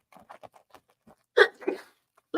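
A single sharp sneeze bursts out loudly indoors, preceded by soft tapping and rustling from an advent calendar being opened, with another brief burst of noise at the end.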